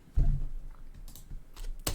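Computer keyboard keystrokes during a Stata macro tutorial, a few separate taps spread over two seconds with one sharp key press near the end, close and fairly quiet with no talking.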